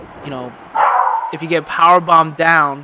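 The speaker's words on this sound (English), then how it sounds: "that's my dog being crazy in the background" A pet dog barks excitedly in the background during WWF No Mercy gameplay commentary, with a few yappy barks between bursts of someone talking over it.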